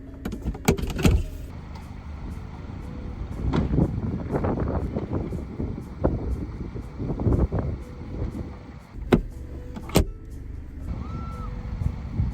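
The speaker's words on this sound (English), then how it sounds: "I'm gonna try and put a video in of me doing the roof up and down." A Mazda MX-5 ND convertible's motorized roof whirs and clunks as it opens and closes, with mechanical thumps, clicks and latching sounds up close over a low engine hum.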